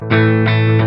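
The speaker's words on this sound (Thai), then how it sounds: "ดีดเป็น power chord นะครับคราวนี้เสียงแตกกีตาร์ไฟฟ้าเลยนะครับ" A loud, heavily distorted electric guitar power chord struck three times in quick succession, each hit ringing thick and sustained.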